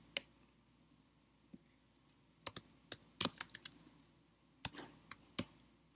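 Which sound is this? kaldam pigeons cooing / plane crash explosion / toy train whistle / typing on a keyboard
typing on a keyboard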